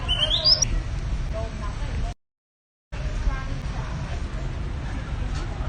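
A man imitates a bird call with a high squawking whistle in a busy street setting in Vietnam, heard at the start over steady traffic and crowd hubbub, followed by a brief cut to silence and more street noise.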